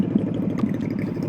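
A Harley-Davidson V-Rod motorcycle idles nearby with a steady, low, throbbing engine rumble, moderately loud and unbroken, with no voices over it.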